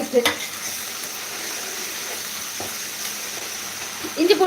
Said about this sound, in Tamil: எப்பா இஞ்சி பூண்டு பேஸ்ட்டு போடுறேன்ப்பா